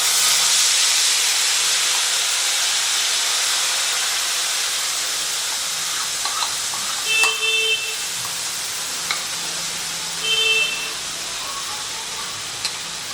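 Yogurt mixture is poured into a hot tempering pan over a low flame for dahi bhindi, giving a steady, soft sizzle and hiss with a few faint clinks of utensils.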